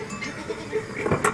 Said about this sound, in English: The Argentata dell'Etna is a breed of goat found nowhere else in the world.